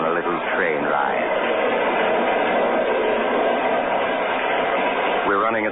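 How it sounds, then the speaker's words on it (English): A train rumbles along steadily at 60 miles an hour on open track at night, with a constant, muffled rolling roar, a voice speaking over it at the start and again at the end. "We're running at 60 miles an hour on open track in the dead of night."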